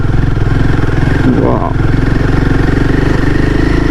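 Royal Enfield Himalayan 450 engine running steadily and loud on an off-road ride, a continuous close motorcycle drone with a brief voice exclaiming over it.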